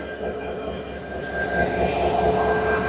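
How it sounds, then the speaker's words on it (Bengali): A Bangladesh Railway train engine at Ishwardi railway junction, a loud, close, continuous rumbling drone that builds slightly over a few seconds. "এই সেই ট্রেনের ইঞ্জিন, বাংলাদেশ রেলওয়ে।"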